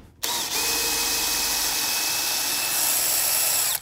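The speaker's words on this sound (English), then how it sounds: "take my screwdriver, and the way we've got these fastened to the molds here is with these construction screws" A power screwdriver drives a construction screw into a boat mold during a strip-plank boat build, giving one continuous, close, high-pitched motor whine that lasts a few seconds.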